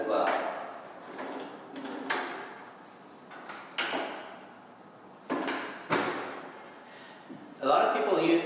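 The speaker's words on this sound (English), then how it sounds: "And then you have the soft closing drawers as well." Soft-closing kitchen drawers in a Manhattan apartment kitchen are pushed shut several times, each giving a muffled thud at irregular intervals over faint room noise.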